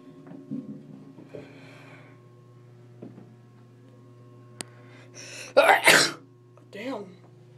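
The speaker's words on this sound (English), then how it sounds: "Sneezing today." Quiet humming room tone inside an early Otis Series 1 hydraulic elevator in Santa Rosa, California, with faint murmurs, then a loud, sharp sneeze bursts out close up, followed by a softer vocal sound.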